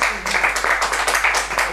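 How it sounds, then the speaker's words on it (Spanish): Applause from an audience, a burst of dense clapping with rhythmic swells, fairly loud and near, with some voices mixed in. "Estamos oyendo aplausos."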